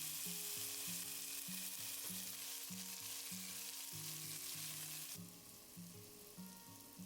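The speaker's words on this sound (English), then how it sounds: "1 clove of garlic minced, half or 1 onion, 2 carrots, and 1 celery stalk that's been chopped. And then we're gonna cook this until transparent." Minced garlic, chopped onion, carrots and celery sautéing in oil for pasta e fagioli, a steady close sizzle throughout with no talking.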